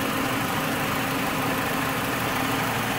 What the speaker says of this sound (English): I felt the bump which signals that the compressor came on